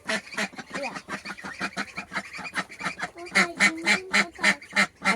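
Ducks and geese calling at a backyard coop in the morning, a rapid, rhythmic run of loud nasal quacks and honks close by, growing busier and more overlapping toward the end.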